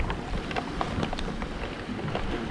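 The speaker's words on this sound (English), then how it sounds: "Every time the rain starts falling," Rain falls hard on rough open sea during a spearfishing outing, a dense, close patter with scattered sharper splashes and wind rumble, steady throughout with no voices.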